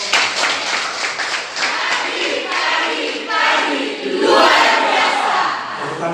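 A classroom of students bursts into loud, continuous clapping mixed with cheering voices, swelling louder toward the middle and holding steady to the end.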